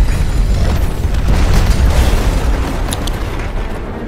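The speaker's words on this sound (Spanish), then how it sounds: "¡Fuera que explota!" Explosion in the video game Destiny 2, a loud sustained rumbling boom with deep low-end roar filling the whole stretch and no speech over it.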